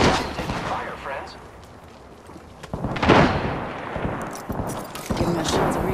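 Bursts of gunfire from the video game Apex Legends, including rapid volleys and heavier booming shots, come and go over several seconds while a player talks over the action.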